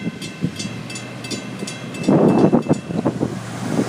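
An FEC freight train led by three locomotives rolls past outdoors, a rumbling, building roar with rhythmic wheel thumps and some wind buffeting the microphone.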